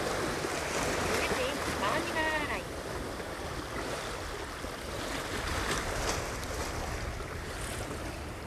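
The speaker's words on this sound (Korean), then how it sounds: "바람이 장난 아니네" Strong wind sweeps over a seaside fishing spot, roaring steadily into the microphone with a broad, gusty rush and surf mixed in underneath.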